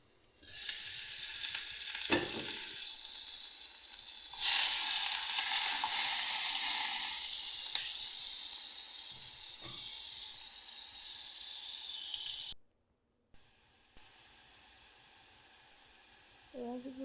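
Blended onion paste hits hot oil while cooking an egg bhuna, bursting into a loud, steady sizzle that holds for several seconds and then cuts off abruptly, with soft stirring and faint background noise around it.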